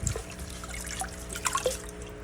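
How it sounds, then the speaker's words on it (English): A fish tank filter sponge pad rinsed in water, giving close trickling, dripping and sloshing splashes in an irregular patter at moderate level. "it's got this sponge pad in here, and you can just rinse that out the best you can"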